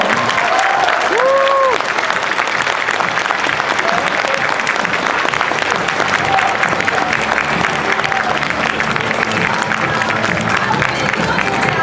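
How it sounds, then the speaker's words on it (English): Audience applause at a comic con panel in a Dublin arena, dense sustained clapping with cheering that fills the hall loudly from start to finish, with a few brief whistles and shouts near the beginning. "please join me in giving a massive round of applause for the brilliant Nolan North!"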